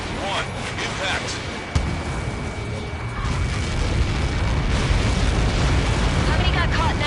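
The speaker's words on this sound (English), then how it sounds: "How many got caught in that explosion?" A missile strike explodes in the combat flight game Ace Combat 7, a loud, continuous roaring rumble with a sharp thud near the start that builds and sustains, while voices talk over it.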